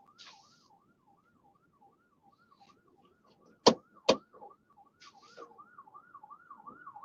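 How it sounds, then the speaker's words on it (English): A distant wailing ambulance siren rises and falls in a rapid, repeating warble, interrupted by two sharp loud bangs nearby. "The sound of the ambulance."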